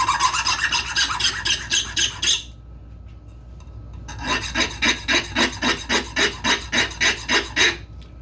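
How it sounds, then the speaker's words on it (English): A hand file rasps across the end of a metal rod being smoothed for an eye bolt, in steady back-and-forth strokes: a burst of quick strokes, a short pause, then a longer even run of about a dozen close, loud strokes. "Next, I'm going to take my file and file the end smooth."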